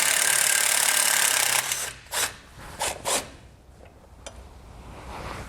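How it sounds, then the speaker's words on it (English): A 13mm socket wrench backs out a bracket bolt on a vehicle's brake line bracket, heard as a few short, close metallic ratcheting bursts after a steady noisy start. "We'll remove the bolt in our bracket with a 13mm socket."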